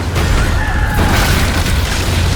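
Ship cannons fire in the naval game Skull & Bones: heavy booming blasts roll into one another, loud and close, over a rumbling low background.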